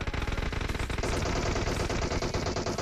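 Gunfire in the mobile battle royale game PUBG Mobile, rapid bursts of automatic shots in a dense, continuous rattle at moderate volume with no voices.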